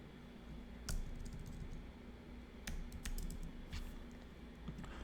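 Someone types lightly on a computer keyboard, a few faint, scattered key clicks in small clusters over a steady low room hum, with no talking.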